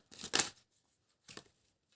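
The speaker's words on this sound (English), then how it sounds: "Now these aren't shuffled properly yet. Let me shuffle them properly first." Tarot cards being shuffled by hand, heard as two brief, close riffling bursts with a quiet pause between them and no voice over them.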